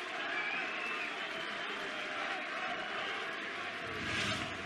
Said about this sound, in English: The 170, the big fish, and Michael van Gerwen is forced to stand back and applaud.